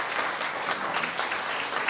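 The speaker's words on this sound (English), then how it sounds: "Round of applause for everyone." A school audience claps for award recipients at an awards presentation, a brief burst of dense, even applause filling the room.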